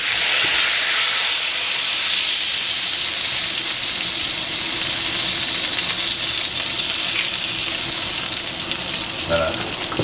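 A steak sears in a hot pan, giving off a loud, steady, dense sizzle and hiss that runs unbroken throughout, with a faint clink near the end.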